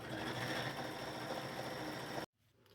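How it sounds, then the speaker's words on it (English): Sewing machine stitching the side seams of thrifted jeans, a steady close whirring drone that runs without pause for about two seconds, then stops abruptly into near silence. "now what I'm fixing to do is sew these side seams up"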